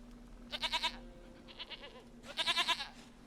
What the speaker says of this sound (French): Une chèvre à moi, gentille,